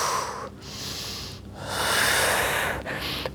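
Audible breaths during a standing workout circuit: loud, close airy inhales and exhales through the nose and mouth, in three or so drawn-out waves separated by brief pauses.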